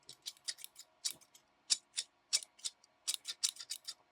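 Quilting scissors that fail to close click and snip repeatedly in an uneven rhythm, close up and fairly quiet, snapping open and shut without fully closing.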